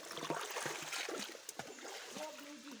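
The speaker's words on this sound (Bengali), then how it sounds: "তুমি নিচে ঝর্ণা, ঝর্ণার আওয়াজ আইতেছে" The Ham Ham waterfall in the Srimangal forest rushes below as a steady broadband wash of falling water, with splashing and trickling close by and voices talking over it.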